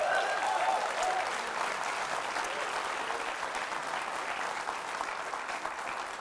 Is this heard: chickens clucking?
no